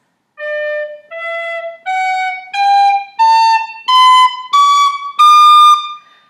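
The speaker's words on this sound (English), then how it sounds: "Or I can use my tongue to stop the air intermittently, and I do that as I'm moving my fingers" Tongued whistle notes climb step by step in eight separate bursts, each cleanly started and stopped, loud and close with short silent gaps between them.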